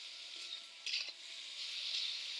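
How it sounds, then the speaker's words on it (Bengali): Vegetables tossed with spices and salt in a pan for a Bengali spinach ghonto, a low steady sizzle with a brief louder scrape of stirring partway through, close and fairly quiet. "মশলা দিয়ে আনাজগুলো লড়া হচ্ছে"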